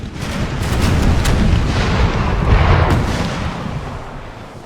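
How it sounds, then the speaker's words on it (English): Heavy rolling musket volleys in a Napoleon Total War 3 battle, a dense continuous rumble of overlapping shots and booms, loud and sustained throughout with sharper cracks layered over it. "Oh, we're exchanging musket fire now."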